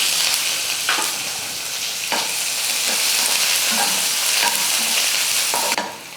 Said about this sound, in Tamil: நான் ஒரு வெங்காயம் எடுத்து பொடியாக நறுக்கிக்கிட்டு இந்த வெங்காயமும் சேர்த்துக்கிறேன்.